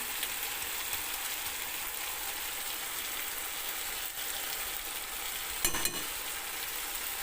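Tomatoes with turmeric frying in hot oil give a steady, close crackling sizzle that runs unbroken, with a brief stir or clatter near the end.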